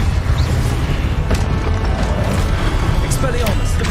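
Incendio fire spell cast in Hogwarts Legacy, a dense, roaring burst of flame and impact noise filling the whole moment, loud and close with a steady rumble throughout.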